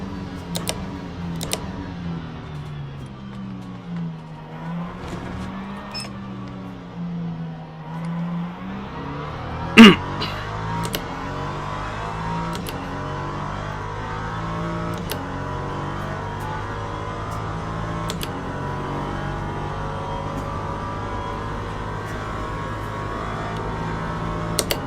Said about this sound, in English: I just need to get used to the engine note because it sounds so sedate.